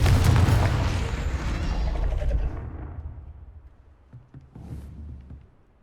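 A Confringo spell blast in the Hogwarts Legacy video game: a loud, deep explosive boom that rumbles on and slowly fades, followed by a few faint thuds.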